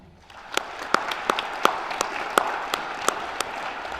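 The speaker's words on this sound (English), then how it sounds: "So I want to give a big round of applause to our seniors tonight." Sparse, distinct claps at a high school National Honor Society induction ceremony for seniors, sharp individual hand claps spaced roughly evenly over a soft room hum, moderately near.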